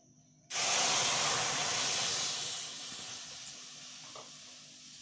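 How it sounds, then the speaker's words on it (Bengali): Milk hits a hot kadai with a sudden loud hiss that starts abruptly after a brief quiet moment, then settles into a steady sizzle that slowly fades a little, heard up close with no talking. "প্রথমেই আমি কড়াইতে দুধ দিয়ে দেবো।"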